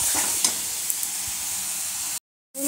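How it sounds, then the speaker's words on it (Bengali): Vegetable masala for a home-style Bengali dumur (fig) and potato curry sizzles steadily in a pan as it is sautéed, a dense close frying hiss with a few stirring clicks before cutting out briefly near the end. "এটা আমি দু থেকে তিন মিনিট আমি কষিয়ে নিয়ে"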